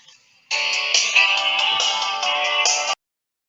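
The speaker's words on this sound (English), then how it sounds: "You probably heard my phone ring." A mobile phone ringtone plays a bright electronic melody for about two and a half seconds, loud and close, then cuts off abruptly into silence.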